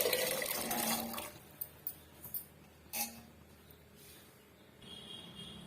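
Water splashes and pours into a pan of chickpea curry for about a second, followed by a few faint clinks and small taps in a quiet room.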